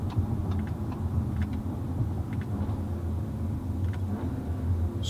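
A 2017 Audi A4 drives along, its engine a steady low rumble with mild revving as the car slows and turns around, close and continuous throughout.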